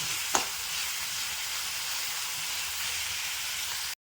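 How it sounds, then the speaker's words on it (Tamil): Sliced onions sauté in a pan for a Tamil banana flower and egg stir-fry, giving a steady broadband sizzle that runs continuously and close, with a brief spoon scrape near the start and no talking. "நல்லா வெங்காயத்தை வதக்கிடுங்க"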